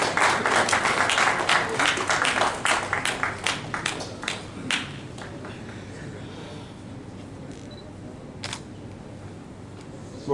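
Audience at an award ceremony for Pakistani auto parts manufacturers applauds, with dense clapping and camera shutter clicks that thin out into scattered claps and a few late clicks.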